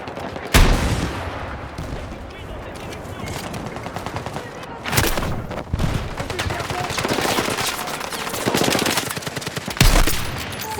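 Gunfire in the first-person shooter Battlefield 6 on a Gibraltar map: loud, dense bursts of automatic fire and heavy explosive booms, some near and some farther off, running almost without pause.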